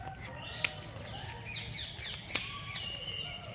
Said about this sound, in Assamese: কি ধুনীয়াকৈ চৰাইবোৰে মাতি আছে